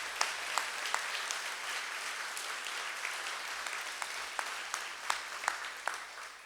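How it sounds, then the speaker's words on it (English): Audience applause for the staff at a spring awards breakfast, a steady wash of many hands clapping with sharper individual claps standing out, sustained throughout at moderate level. "let's just give them one more round of applause for all of their work"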